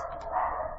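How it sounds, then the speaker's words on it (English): Dogs bark faintly in the background, a muffled steady run of sound heard from a distance, with no talking over it. "hope you're listening to my dogs. They're barking in the background."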